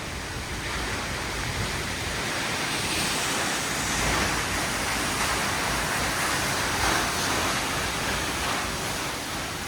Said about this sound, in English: just off the winding road is the magical Perrine Coulee Waterfall.